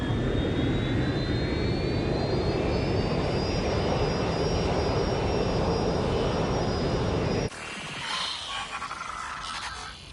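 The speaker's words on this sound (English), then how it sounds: "Plane should be landing in a few hours." An airplane engine in the video game Watch Dogs Legion roars steadily with a rising whine, loud and continuous, then cuts abruptly to a thinner, rougher rumble near the end.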